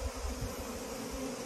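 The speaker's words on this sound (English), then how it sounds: "There's a few unhappy bees." Agitated honeybees buzz in a dense, steady drone around an opened hive during a honey harvest, close and fairly soft, with no voices.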